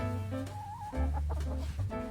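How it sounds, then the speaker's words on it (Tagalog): Hens cluck up close in a short run of throaty, repeated calls, with no talking. "Itong dalawang inahin."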